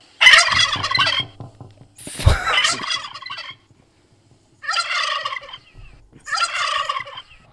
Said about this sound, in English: Let me look up what do turkeys sound like.